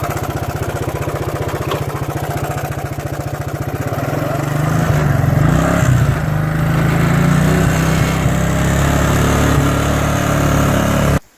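A four-wheeler ATV engine climbing uphill, a close steady putter that swells louder and rougher partway through as the throttle opens, then cuts off abruptly at the end, with no speech.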